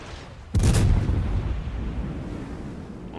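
A heavy naval gun salvo from a warship in World of Warships thunders out as one loud, deep boom, followed by a long rumbling decay that fades over a few seconds.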